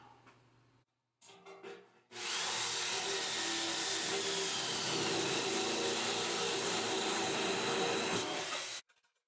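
A Harbor Freight body saw cuts through a steel beer keg in a loud, steady, rasping buzz that runs for about seven seconds after a few brief starts, then stops abruptly.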